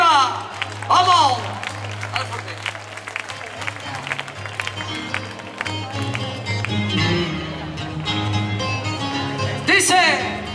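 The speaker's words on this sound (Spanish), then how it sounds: "¡Esas palmas arriba!" Concert crowd at a tribute to Peret clapping along in rhythm, a brisk patter of hands over loud music with a steady bass line and a singing voice, building toward the end.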